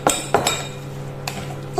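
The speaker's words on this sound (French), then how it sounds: "On mélange avec une cuillère." A spoon clinks against a bowl while mixing a chicken meatball mixture, giving a few sharp, bright taps spaced irregularly over a quiet background.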